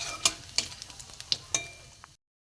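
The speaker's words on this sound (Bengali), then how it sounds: "এলাচ একটু ফাটিয়ে দেবেন, তাহলে তেলে দেওয়ার সঙ্গে সঙ্গে ফাটবে" Whole spices and cardamom crackle in hot oil, with sharp pops scattered irregularly over a faint sizzle that ends abruptly.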